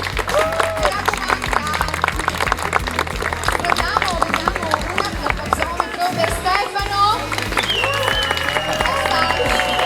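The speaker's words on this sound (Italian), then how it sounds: "Un applauso ad Ambra." Audience applause for a contestant at the Miss Principessa d'Europa regional pageant final in Cavarzere, Venice, a steady patter of clapping mixed with music and voices throughout.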